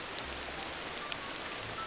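Rain falls in the driving game Motor Town, a steady soft hiss of drops on surfaces with a low engine rumble beneath.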